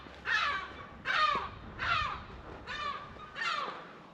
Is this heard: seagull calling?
yes